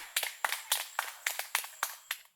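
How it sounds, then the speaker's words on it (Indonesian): Eight distinct hand claps in a steady, evenly spaced rhythm, moderately close and fairly quiet, with no voices, heard during an Indonesian podcast conversation about starting a business. "Tepuk tangan dulu."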